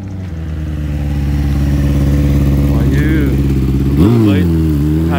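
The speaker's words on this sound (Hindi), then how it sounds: "हैवी बाइक पे भाई ड्यूटी पे जा रहा है।" A heavy motorcycle on a hillside road near a valley builds from faint to loud as it rides past close by, its engine note rising and shifting around the pass, with voices talking over it.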